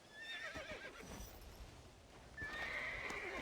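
Horse neighing and hooves clip-clopping in Red Dead Redemption: Undead Nightmare, with a whinny near the start and a louder, longer neigh toward the end over steady hoof beats and game ambience.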